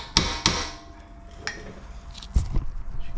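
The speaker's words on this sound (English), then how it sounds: "Now we're going to take a punch. We're going to peen it" A hammer strikes a punch to peen a strut nut on a Dodge Dart strut replacement, giving a few sharp metallic taps spaced irregularly, close and fairly loud.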